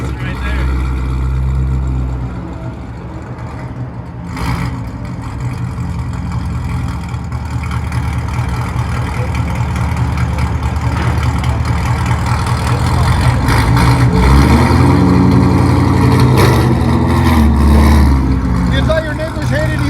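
A deep, loud engine drone swells and builds into a heavy revving roar from a sports car running on old mufflers, with people talking over it.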